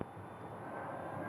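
A Southwest airliner in special livery, bound for San Diego, at Phoenix Sky Harbor Airport Terminal 4, giving a faint, steady jet roar heard briefly from a distance.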